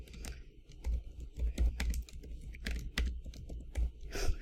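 Quick, irregular clicks and taps of typing on a computer keyboard, close and fairly quiet, with no talking.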